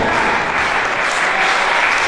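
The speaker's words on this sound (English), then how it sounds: "Great crowd here in Taino Towers." A wrestling crowd at Taino Towers cheers and applauds in a steady, dense roar of clapping and voices that fills the whole moment without a break.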